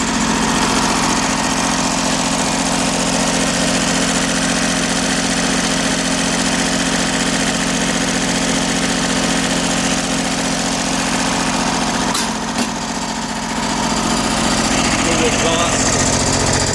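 A three-cylinder diesel engine in an Iseki TU175 compact tractor idles steadily and close, a constant low throbbing drone with a short bump near the end.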